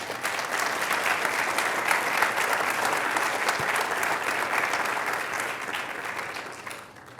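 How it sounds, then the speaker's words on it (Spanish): A church congregation applauding during a Spanish-language sermon, a dense, steady wash of many hands clapping that holds strong for several seconds before tapering off near the end. "Dele un aplauso al Señor."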